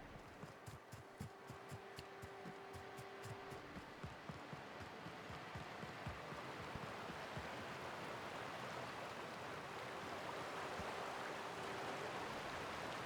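Steady rushing water from a waterfall in The Outer Worlds, a continuous broadband wash that builds and holds at moderate level, with some rhythmic footstep-like thumps in the first few seconds.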